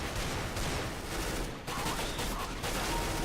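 Dense, continuous gunfire in Counter-Strike: Global Offensive, loud and sustained throughout with one brief gap, with no talk over it.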